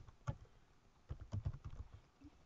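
Typing on a computer keyboard, a short burst of soft, uneven key clicks and taps nearby, quiet with no speech.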